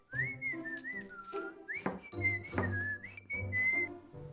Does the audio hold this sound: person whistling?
yes